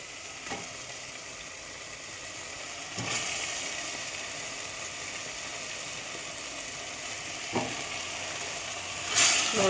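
Chicken pieces are dropped into a pan of sautéed onion and tomato, giving a soft, steady sizzle of frying with a few louder clatters and scrapes. No voices are heard.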